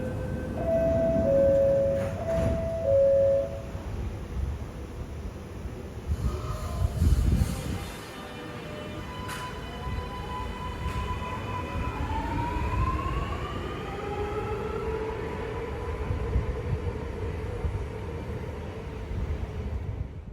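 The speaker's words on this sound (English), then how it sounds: "here is it departing from the station, closing its doors and leaving the station" A Sydney Metro train closes its doors and departs Sydenham station: door chimes and warning tones, then rising electric motor whines as the train pulls away, loud and close on the platform.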